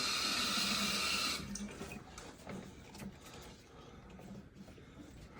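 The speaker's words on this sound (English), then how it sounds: "I just ran the sink" A sink tap runs during a Saniflo macerating toilet pump installation, a steady loud rush of water that cuts off after about a second and a half, leaving low faint clattering and handling noise.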